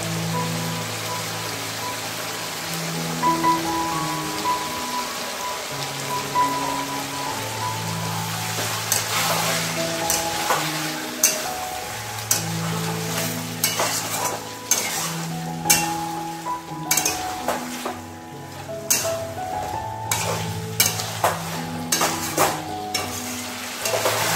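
Beaten sour yogurt fries and gets stirred in a pan for home-style chicken biryani, giving a steady close sizzle with repeated scraping strokes and occasional sharp clinks, no voices.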